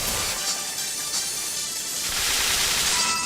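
Electric-line traversal sound effect from the Mario Odyssey video game: a dense, continuous crackling buzz of static and rapid sparking bursts, loud and unbroken, swelling slightly toward the end.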